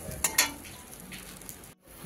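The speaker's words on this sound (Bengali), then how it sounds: "ঝোলটা দেখছেন পুরো ফুটে গেছে।" Fish curry gravy bubbling at a boil in a pan, a soft steady simmering hiss with a couple of brief sharper crackles early on and a short moment of near silence toward the end.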